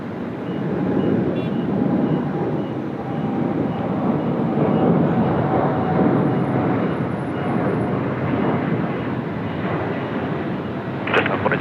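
A Jetstar airliner takes off at Sydney Airport, its jet engines giving a loud, steady broadband roar that holds for about twelve seconds.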